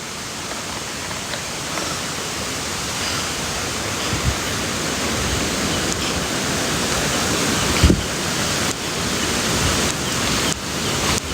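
A river that has to be waded across again rushes with a steady, broadband wash throughout, fairly loud and continuous, with a few brief knocks and bumps near the microphone and no talking.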